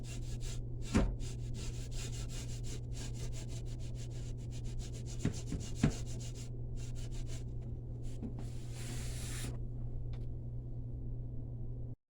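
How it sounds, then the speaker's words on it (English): Coarse salt scrubbed around a cast iron pan, a steady rough rubbing and scraping texture that goes on at an even pace with a few louder knocks, near and alone over a low constant hum. "Just cover it real good with salt. Start scrubbing."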